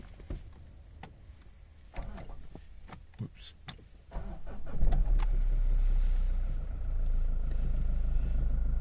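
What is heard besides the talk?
2013 Mazda 6 2.2D Skyactiv diesel engine starting and idling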